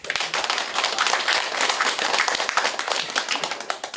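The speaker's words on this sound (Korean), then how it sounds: "박수 한번 치요" A village audience in Hongseong County, South Korea, claps on cue during a local official's visit, with dense, fairly loud hand claps sounding continuously for a few seconds with no voice over them.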